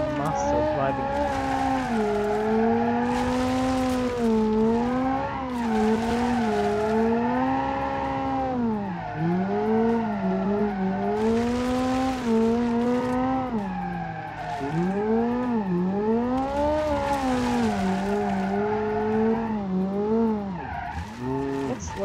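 A 300-horsepower rally car engine in BeamNG.Drive drones steadily and loudly, its pitch rising and falling through repeated revs and gear changes, with tire skids mixed in throughout.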